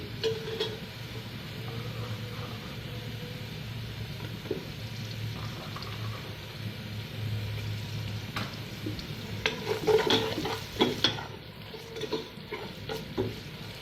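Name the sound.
onions frying and being stirred in a pan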